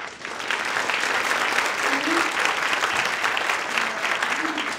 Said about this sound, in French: les meilleurs applaudissements du monde, vous leur donnerez